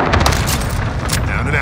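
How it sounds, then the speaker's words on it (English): Cluster strike explosions in Call of Duty: Modern Warfare make a dense, loud roll of booming rumble with crackling blasts, and a voice speaks over them throughout. "Cluster strike is active."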